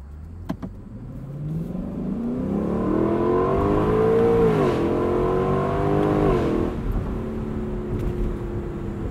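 A 2021 Lexus LC 500 Convertible engine hums steadily from inside the cabin at about 70 mph, its pitch rising smoothly then dropping as it shifts gear at part throttle, over constant road noise.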